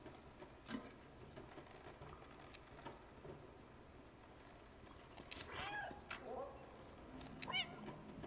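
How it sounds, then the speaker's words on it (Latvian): A cat character meows in the video game Stray, a few short mewing calls rising over soft game ambience and light footstep patter, moderately close. "Es tipa ņaudu."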